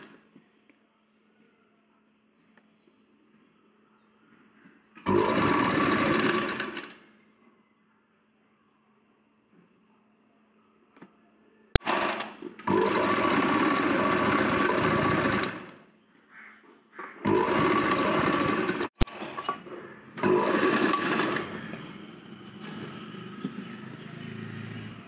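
Electric sewing machine stitching the shoulder seam of a ladies' raglan sleeve top, running in four steady loud bursts of a few seconds each, separated by quiet pauses.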